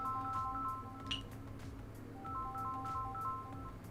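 A Samsung Galaxy S10 Plus with an LED back cover rings for an incoming call, a faint, repeating electronic ringtone melody of short tonal notes over low background hum.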